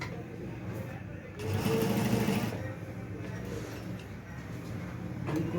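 A sewing machine stitches the front double placket of a kameez, its soft, steady mechanical whir briefly speeding up and then slowing under a quiet room hum.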